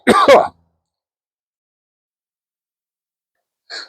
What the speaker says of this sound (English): just had to pause that for a coughing fit